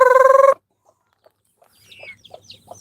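Chickens on a small farm: a loud rhythmic crowing-like call opens, then after a pause, quieter scattered clucks and squawks come from nearby birds.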